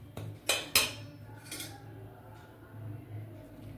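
A ladle handle stirring kozhukattai dough in a pot, with a few sharp metallic clinks near the start and then softer scraping, close and fairly quiet.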